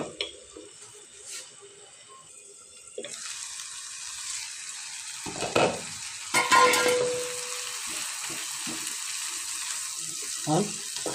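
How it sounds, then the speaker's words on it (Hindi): Tomatoes and spinach cook in a pan, a soft hiss broken by a few clattering stirs and louder sizzling bursts, with some watery splashing sounds mixed in. "तब तक इसको हम भूजेंगे। अभी हम एक दो बार और चलाएंगे ढक के।"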